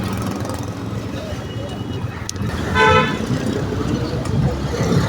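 A road in Noakhali, Bangladesh, with a steady wash of traffic and a short car horn toot partway through, heard from the roadside.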